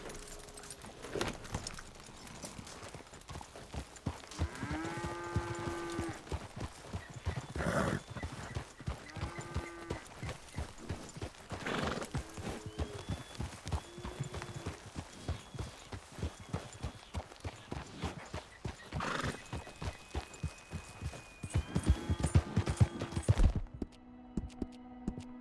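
Horse hooves clip-clop in Red Dead Redemption 2 as a rider urges the horse on, a steady trotting rhythm with tack jangling, broken by several short neighs and snorts.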